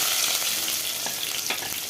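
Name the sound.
mustard seeds, cumin and onions frying in oil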